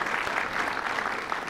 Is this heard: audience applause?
yes